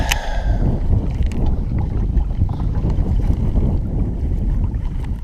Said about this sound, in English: Hope the wind hasn't been too terrible to listen to. It is blowing pretty decent.